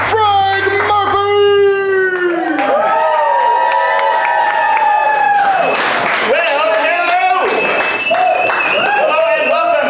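An audience at a live comedy improv show cheers, whoops and applauds as the host is introduced, a noisy crowd roar with shouts rising and falling, overlapped briefly by a speaking voice.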